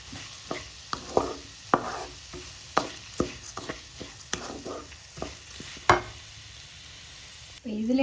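Ordinary rice being stirred and fried in a pan, with soft sizzling under a series of sharp scrapes and taps of a spoon against the pan, fairly close and moderately quiet, no talking.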